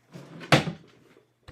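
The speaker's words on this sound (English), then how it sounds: "Oh, I left my drawer open here." A desk drawer slides shut with a single sharp knock, preceded by a faint scrape and followed by a fading rattle and a small tap, close by in a quiet room.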